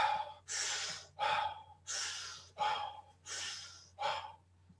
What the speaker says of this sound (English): I'm going to demonstrate what this breathing rhythm might sound like. You know, it is quite a strong breath,